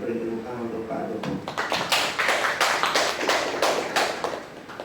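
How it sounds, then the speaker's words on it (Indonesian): An audience of teachers at a school training session breaks into applause for a speaker, a dense burst of many hands clapping that builds after a voice and carries on steadily to the end. "saya pengen teman-teman beri tepuk tangan untuk Pak Joko."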